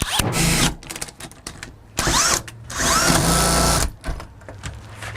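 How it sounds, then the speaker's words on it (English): A power drill whines in three loud bursts separated by short pauses, close up, with grinding mechanical noise as it bites into the metal of a house door lock. "we're ready to drill the locks and get in this house"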